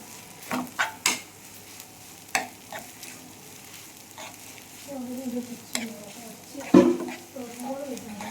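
Noodles mixed with pepper powder are stirred in a pan, giving scattered scraping knocks and clinks over a soft sizzle, close and moderately loud.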